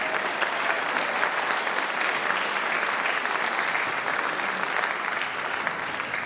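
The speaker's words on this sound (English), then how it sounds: "I'd like you to give yourselves a round of applause, parents" An audience gives a sustained round of applause at a school jazz concert, with dense, even clapping throughout and a few faint shouts in the crowd.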